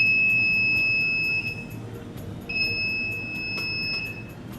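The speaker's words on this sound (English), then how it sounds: "When the unwanted enemy enters the border, the buzzer buzzes." The buzzer of an IR-sensor border alarm project sounds a steady high-pitched electronic tone, cuts out briefly, then sounds again, close and fairly loud over faint background hiss.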